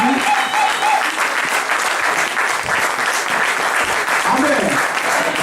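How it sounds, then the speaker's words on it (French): A church congregation applauds and cheers loudly and continuously in praise, with the clapping forming a dense wash and voices raised within the crowd. "nous allons vraiment acclamer très fort pour la gloire de Dieu"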